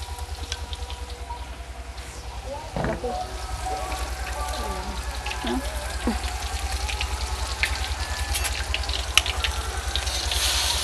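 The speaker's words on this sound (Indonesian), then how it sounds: "Ini bumbu soto yang sudah dihaluskan, kita tumis ya teman-teman." Ground soto spice paste with kaffir lime leaves and lemongrass sautéing in a pan, a soft steady sizzle beneath a low hum, with scattered clinks and stirring and a voice talking over it.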